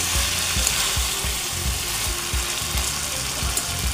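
Okra curry being stirred in a hot pan: steady loud sizzling under a quick run of spoon scrapes and clicks against the metal, close by, with no talk.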